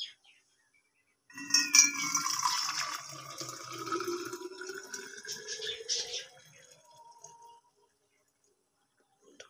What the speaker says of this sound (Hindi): अभी पानी को फ्लास्क के अंदर ले लूंगी